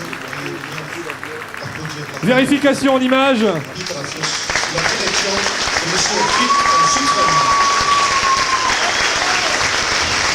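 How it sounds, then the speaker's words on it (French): Studio audience applause and cheering on a French game show after contestants win one million euros, a steady broadband clatter filling the clip alongside a host talking and brief musical tones. "on peut les applaudir"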